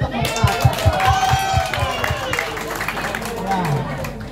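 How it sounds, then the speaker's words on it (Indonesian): A group at a big family gathering claps for the cooks in quick rhythmic bursts while voices chatter and call out over it. "Beri tepukan untuk mereka."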